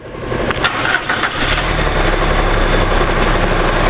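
A gas-fuelled car engine cranks and catches, then settles into a loud, steady running rumble close by.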